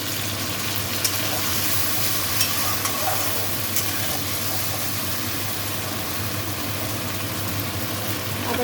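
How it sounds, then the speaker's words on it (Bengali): Ginger paste fries and is stirred in a pan while cooking potol posto, a steady close sizzle running throughout with occasional faint scrapes of the spatula and a low hum beneath. "আদা বাটাটা দিয়ে একটু কষতে থাকবেন হালকা করে।"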